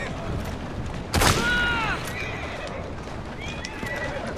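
In Assassin's Creed Syndicate, a horse lets out one sharp whinny over clip-clopping hooves and distant booms, with steady game ambience throughout.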